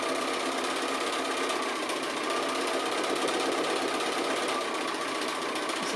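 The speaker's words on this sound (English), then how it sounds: "This is kind of a fun sort of sketching way of doing a little bit of decorative drawing with your sewing machine." A sewing machine stitches decorative lines around appliqué pieces, running steadily and closely for the whole stretch, with a dense even mechanical buzz and no talking.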